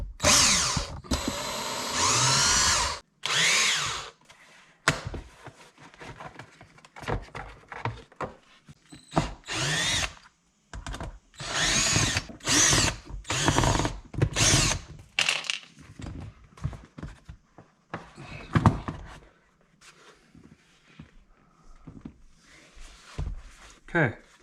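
A power driver backing fasteners out of a car's center armrest, heard as a series of short, loud whirring bursts with pauses between them and a voice talking intermittently.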